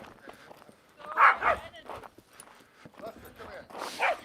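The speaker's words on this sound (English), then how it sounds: "We got some dogs running around." Small dogs bark in a few yapping bursts, strongest around the middle and again near the end, mixed with background activity and possible voices.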